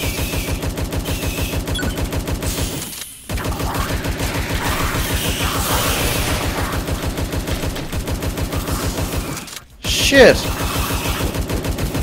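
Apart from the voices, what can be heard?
Tommy gun firing in the video game Tesla vs Lovecraft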